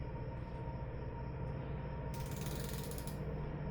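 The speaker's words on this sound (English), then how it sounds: "So we're gonna go ahead and torque this bolt right here." Steady ratcheting clicks from a torque wrench tightening a bolt on an LS engine during a piston install, running continuously and close with a brief brighter burst midway.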